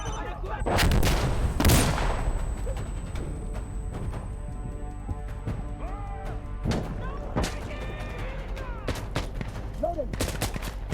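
Mortar fire in the video game Insurgency: Sandstorm booms out in heavy, close blasts early on, followed by scattered distant thuds and shots, while voices call out over the combat.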